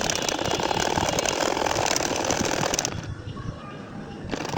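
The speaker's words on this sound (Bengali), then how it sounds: "আমি কিন্তু সেই একইভাবে ফিটটা হালকা উঁচু করে টেনে টেনে কিন্তু সেলাই করে যাচ্ছি" A sewing machine stitching a nakshi kantha quilt, with the presser foot slightly raised and the cloth pulled by hand, running as a loud, steady mechanical whir before dropping to a quieter hum near the end.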